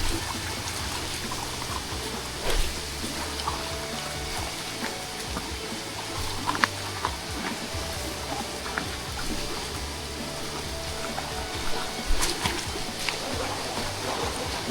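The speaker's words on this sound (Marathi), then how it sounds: "पुन्हा ओढा लागलाय तो पार करायचा आपल्याला" Water of a forest stream on the Panhala to Pawankhind trail in the Sahyadri hills runs and gurgles continuously close by as it is waded across, with scattered splashes and sharp knocks from footsteps over about fifteen seconds.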